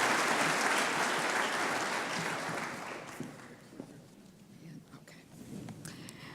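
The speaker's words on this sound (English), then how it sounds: "Let's give a big round of applause to this group." An audience applauds at a scholarship reception, dense sustained clapping that gradually thins and dies away into scattered claps and faint murmur.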